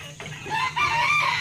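A rooster crows nearby, a rising then drawn-out call, with mixed-breed chickens faintly in the background.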